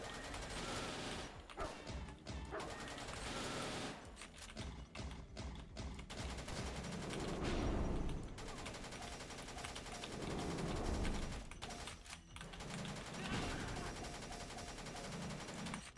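Rapid, faint bursts of gunfire crackle from the retro-style shooter game Quartermain and the Cult of Cthulhu, mixed into a dense, continuous game soundtrack.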